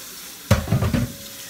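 Tap water starts suddenly and splashes into a metal cooking pot used for a seafood boil, a short close gush that fades after about a second.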